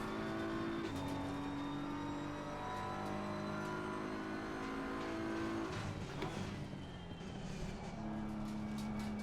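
A BMW M4 GT3 race car driving in the Assetto Corsa Competizione game: a close, continuous engine drone rises and falls in pitch through gear changes, with a dip as the car brakes hard before the engine climbs again.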